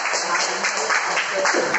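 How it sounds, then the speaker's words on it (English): A classroom of students applauding themselves during an English teaching demonstration, a brief burst of dense clapping close to the recorder. "Now give yourself a round of applause."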